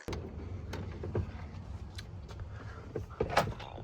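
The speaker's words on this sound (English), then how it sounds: "Open the door!" A Ford F350 pickup truck door, on a truck with wiring issues, is opened with a few close clicks and a clunk of the latch over a low steady background rumble.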